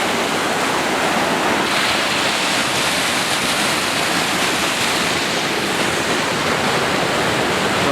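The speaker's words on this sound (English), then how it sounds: "Over there is the top of Clackamas Falls." Clackamas Falls pours over rocks on a creek near an old concrete dam, a loud, steady broadband roar of rushing water that holds constant throughout with no voices.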